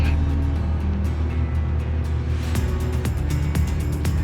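A 1948 V-Tail Bonanza airplane's piston engine holds 2300 RPM in a loud, steady, close droning roar with a rough throb and no letup.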